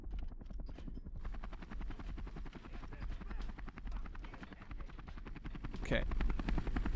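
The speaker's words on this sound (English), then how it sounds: "Helicopter still being reloaded." A helicopter in the war video game Call to Arms gives a steady, rapid rotor chop and engine whine throughout, loud and continuous with no talk over it.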